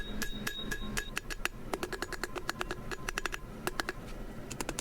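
Steel hammer blows ring on an anvil while flattening the end of a forged iron hook for a coat rack: many sharp, bright metallic strikes in a quick, uneven rhythm, close and loud, with no talking.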